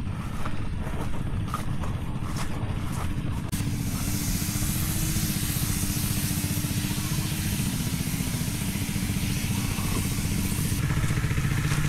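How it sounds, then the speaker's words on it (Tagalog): Motorized sprayer spraying bitter gourd (ampalaya) plants on a farm, a loud steady engine drone with continuous hissing spray running without pause throughout. "Mag-i-spray din tayo dito sa Ampalaya dahil pumitas tayo kahapon."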